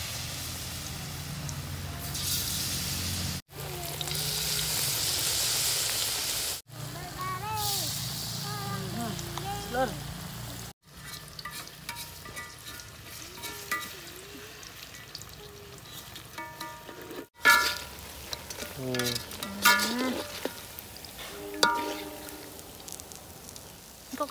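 Salted fish frying in oil for a home-cooked Javanese meal of garden harvest, giving a steady sizzle that cuts in and out across several takes, with speech over parts of it.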